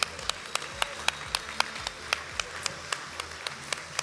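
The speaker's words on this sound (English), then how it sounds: "can we give another round of applause for all of our first-time club achievers" Audience applause at a corporate general session honoring first-time club achievers: a room of people clapping steadily, with sharp claps standing out rhythmically over a continuous bed of hands, moderately loud and without talk.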